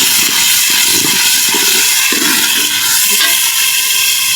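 Water splashed onto onions frying in a pan sets off a loud, steady, close-up hiss and sizzle that continues without pause and carries no speech.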